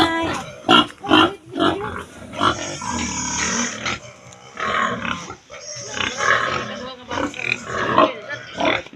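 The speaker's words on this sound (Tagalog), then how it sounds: "May baboy guys, ay baktin." Pigs and piglets on a farm grunt and oink in repeated bursts close by, mixed with people talking and moving around them throughout.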